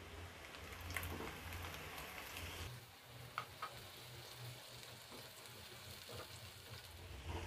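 Onion paste sizzling in a pan for chicken jhal fry, a steady broadband frying hiss with small pops and a faint stirring clink partway through, moderately close, with no talk.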